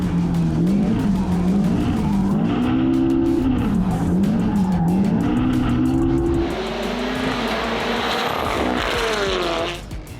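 Race cars lap a tight one-kilometre track laid inside a stadium, engines revving up and down in loud, continuous waves with tire squeal and skidding, passing close and fading slightly near the end.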